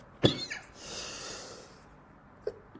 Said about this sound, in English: momentary coughing fit there